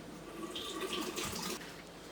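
About 25 grams of lukewarm water runs from a faucet or is poured for sourdough dough, a soft steady splashing trickle, faint and close, with no talking.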